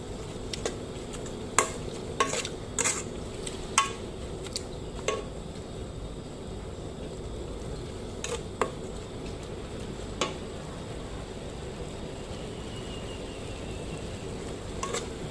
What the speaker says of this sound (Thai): คั่วเนื้อก็สุกแล้ว